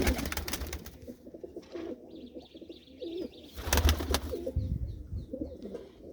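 Pigeons kept as a hobby flock coo repeatedly at close range, with throaty calls overlapping throughout, a few sharper chirps and a brief burst of wing flapping.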